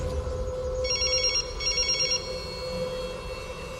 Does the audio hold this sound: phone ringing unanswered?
yes